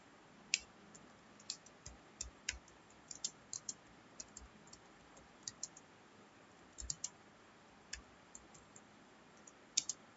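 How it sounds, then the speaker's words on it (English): Keys tapped on a computer keyboard while entering an HTML program, quiet irregular clicks in uneven bursts over a faint steady room hiss, with no talking. "now we'll type the program"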